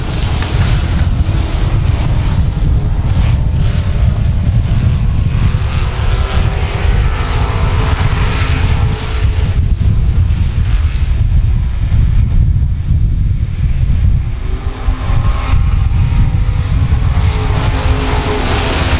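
Race cars roaring away at the green-flag start at South Texas Speedway, a loud continuous wall of engine noise with heavy wind buffeting, sustained throughout.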